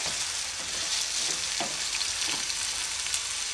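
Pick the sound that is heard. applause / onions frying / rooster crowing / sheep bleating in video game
onions frying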